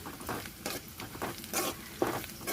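Onions frying in a pan, a soft sizzle with irregular stirring scrapes and patters, fairly close and moderately quiet, no voices.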